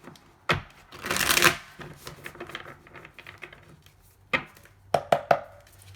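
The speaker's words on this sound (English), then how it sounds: "These cards are a little bit harder to shuffle" Tarot cards are riffled and shuffled up close, with a long rustling burst followed by a few sharp slaps and taps as the deck is squared.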